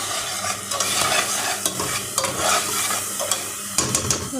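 Spices being stirred into tengra fish frying in a pan, loud continuous sizzle with rhythmic scraping stir strokes, close up and without any voice.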